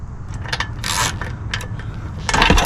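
Honda Navi muffler dropping loose after its last bolt is removed, a series of sharp metallic clanks and scrapes, one longer rattling burst near the start and a louder clattering crash at the end, close by.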